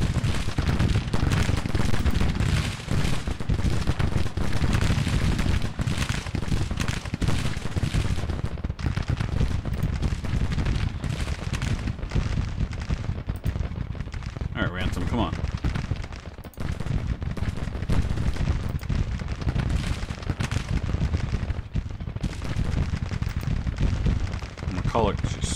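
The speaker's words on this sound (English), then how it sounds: "They've got all of these units firing on them." Musket volleys and artillery fire in the Civil War strategy game Grand Tactician, with dense, continuous crackling gunfire and heavy booms rolling on throughout, a voice talking over the battle at times.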